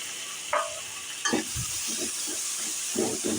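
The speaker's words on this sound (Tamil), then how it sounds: "ஒரு நாலு பெரிய தக்காளி வந்து இந்த மாதிரி பொடியாக கட் பண்ணி எடுத்து வச்சுருக்கேன் அதையும் இதில் சேர்த்துக்கலாம்" Finely chopped tomatoes are tipped into a hot pan with cumin for tomato thokku, giving a burst of loud hiss and sizzle, followed by a spoon scraping and stirring against a steady frying background.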